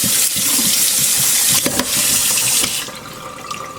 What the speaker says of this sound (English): I'm going to run a little bit of water over these